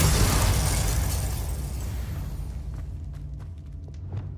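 The Bombarda explosion spell from Hogwarts Legacy goes off with a loud, broad blast that rolls and fades over a couple of seconds, followed by a few faint crackling pops in the quieter tail.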